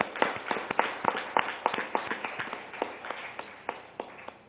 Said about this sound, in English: So let's give a round of applause to all the elected companies.